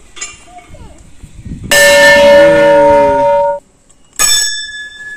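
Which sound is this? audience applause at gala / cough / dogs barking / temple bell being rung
temple bell being rung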